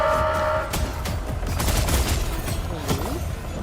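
Explosions in the video game Arknights: Endfield, a burst of booming blasts and crackling detonations in quick succession, loud and close, with faint game sounds trailing after.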